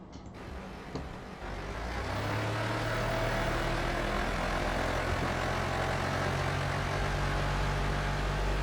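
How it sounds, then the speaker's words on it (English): A big truck engine in the video game Drive Beyond Horizons rumbles steadily and loudly, a deep continuous drone that builds after the first couple of seconds and holds without a break. "you can't hear me talking over the engine of this big old monstrosity truck"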